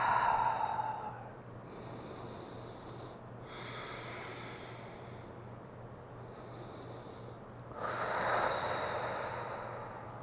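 Deep breathing during yoga exercise, several slow breaths close to the microphone: long airy inhales and exhales with pauses between, the final breath strongest.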